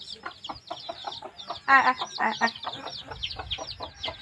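Chickens in a backyard on a hot, sunny day give a quick, continuous run of clucks and chirpy calls, close and moderately loud, with a few louder bursts in the middle.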